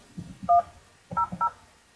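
Three short touch-tone beeps from a phone keypad, one followed after a pause by two in quick succession, over faint background noise.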